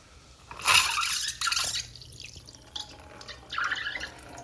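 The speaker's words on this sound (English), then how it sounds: "the toilets will have a oftentimes big sluggish flush where the water rises quite a bit" A toilet flushed with only the rim jet running overflows, and water splashes and spills in irregular bursts, moderately close, with no speech.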